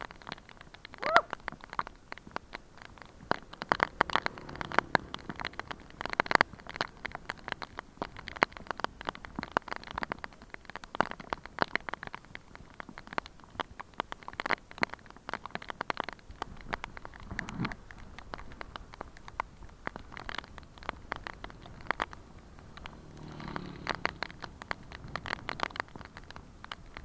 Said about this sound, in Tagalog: Kaya lakas ng ulan.